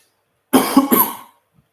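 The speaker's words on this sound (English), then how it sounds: "I'm just going to have to cough a moment" Two close, sharp coughs in quick succession come from a man at the end of a cold, followed by silence.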